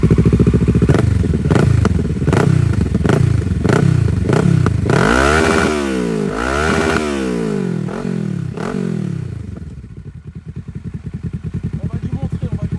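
A Kawasaki Ninja motorcycle engine runs close by, rising and falling through repeated revs over a steady throbbing idle, with voices talking faintly underneath.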